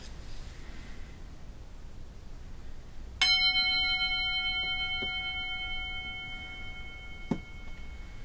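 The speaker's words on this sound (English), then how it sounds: "I'm going to ring the bell, and I'm going to ask you to listen carefully." A single bright bell strike rings out and slowly fades with a long, clear sustained tone, followed by a couple of faint clicks.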